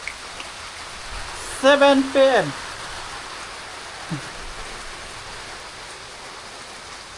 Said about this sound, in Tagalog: Malakas pa rin po yung ulan